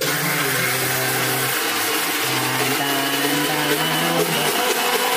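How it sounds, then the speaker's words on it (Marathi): A kitchen mixer grinder runs at a loud, steady whine with a wavering motor pitch throughout, close to the listener and without speech. "आईने मिक्सर लावलेला आहे। 1 स्टार मिक्सर गँग गँग गँग गँग गँग गँग गँग चालू।"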